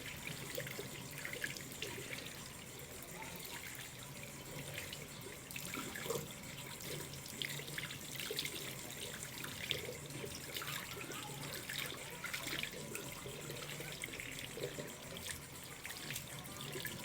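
Tap water runs steadily over a Vivo T3x 5G phone being washed under the faucet, a continuous close splashing rush that holds at an even level throughout with no talking.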